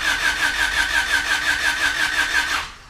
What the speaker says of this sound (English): we're gonna crank it a little bit.